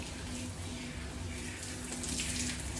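Steady water running and splashing as shampoo is rinsed from a Gordon setter's coat, a continuous close hiss with no talk.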